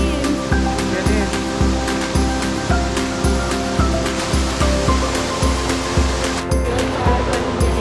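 Big & Little Crystal Waterfall at a free campsite in winter pours in a loud, continuous roar of falling water, close by, with a regular pulsing thud running under it.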